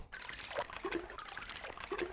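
Wading through water in the Alone in the Dark video game: soft trickling and sloshing with gentle splashes in a steady, close, low-level rhythm.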